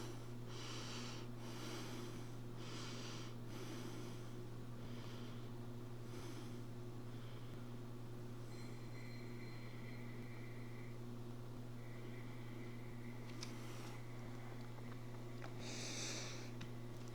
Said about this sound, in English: Focusing on your breath. Inhales and exhales through the nose.